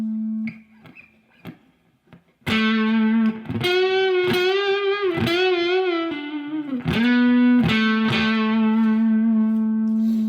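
An electric guitar solo played through a Boss Katana Artist Mark III amp: sustained, distorted notes with bends and slides, loud and close, after a few quiet picked notes at the start.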